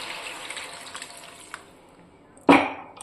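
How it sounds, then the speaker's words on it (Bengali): Hot water poured into a frying sausage curry, a quiet sizzle and a few clinks, then a sudden loud gushing splash that fades over half a second. "এবারে দিয়ে দিচ্ছি আমি গরম জল।"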